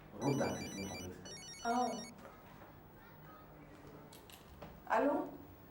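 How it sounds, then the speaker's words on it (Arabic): An office telephone rings in short electronic trilling bursts, two close rings in the first couple of seconds, while people talk nearby in a busy indoor setting. "رد على تليفون حضرتك."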